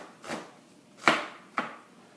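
A knife chops onions on a cutting board with three separate thuds, widely and unevenly spaced, close and moderately loud, with no speech between the strikes.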